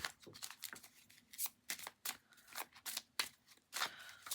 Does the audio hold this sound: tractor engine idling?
no